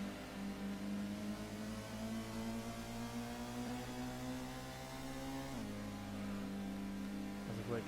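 Race cars in Gran Turismo on the Trial Mountain circuit, a steady, droning engine whine with pitch slowly climbing as cars accelerate, a shift dropping the tone partway through, continuous and moderately loud with no talking.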